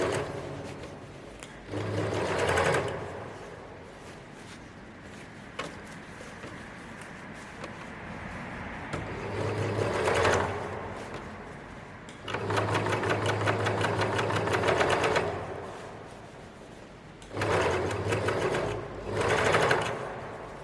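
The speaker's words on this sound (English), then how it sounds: "Making sure that everything is flat as you're overlocking" An overlocker sergeing the armhole seam of a button-up shirt runs in several separate bursts, a steady close whirring hum that starts and stops between pauses, with no talking.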